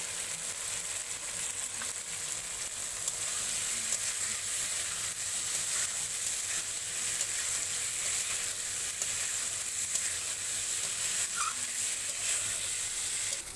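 Spice masala with salt and Kashmiri chili powder sizzles and fries steadily in a kadai, a continuous close hiss with faint stirring scrapes and no voices.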